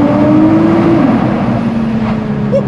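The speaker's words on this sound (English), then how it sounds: "Hopefully warm some tyres up on this car, get some noise, go underneath the tunnel right now." A Nissan GT-R drives through a tunnel, its engine a loud, close, echoing drone that rises slightly in pitch and then settles back.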